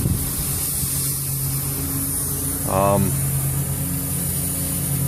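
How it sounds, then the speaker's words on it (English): Compressed air from a compressor tank blows water out of a home sprinkler system as a continuous rushing hiss beside a running engine, and someone speaks briefly partway through. "And then you just let it go until the compressor tank empties."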